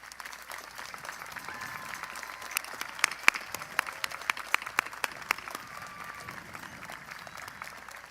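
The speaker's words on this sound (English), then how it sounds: "if you would please stand for a round of applause" Graduates and guests at a high school commencement applaud the teachers and staff: a distant, hall-filling patter of many hands with sharper individual claps popping out, sustained and fairly quiet.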